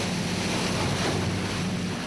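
High sea waves surge around a small fishing boat out at sea in cold, windy weather, a loud continuous rush of water and wind buffeting close to the microphone, with no voices.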